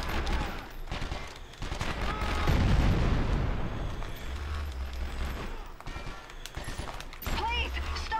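Enemy gunfire in the PlayStation 2 video game 24: The Game crackles in rapid bursts and volleys, with heavy shots layered over game noise while a player talks.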